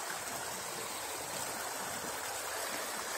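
A forest creek flows in a soft, continuous babble, faint and steady with no voices or other sounds over it.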